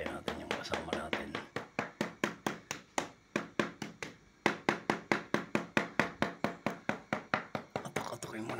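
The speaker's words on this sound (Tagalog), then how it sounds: "Katok-katokin muna natin habang wala pa yung ladder." Quick, evenly spaced knocks strike old, leaking water pipes in Cupang, Alabang, sounding several times a second. They are close and sharp, with a brief pause midway before the steady rhythm resumes.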